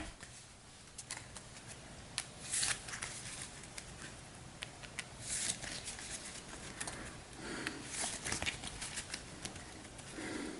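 A deck of cards being shuffled for the Hero Realms deckbuilding card game, soft repeated riffling and patting bursts at a quiet, close level with no voices.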